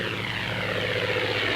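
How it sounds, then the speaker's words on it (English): Engines of WWII Hellcat fighters and Avenger bombers roar steadily as the carrier aircraft take off from a task force carrier, a loud, continuous propeller drone with no talk. "Hellcat fighters and Avenger bombers take off"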